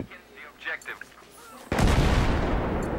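A sniper rifle shot in Battlefield 3 multiplayer Conquest lands as a sudden loud boom with a long rumbling tail, after a few seconds of faint background game noise.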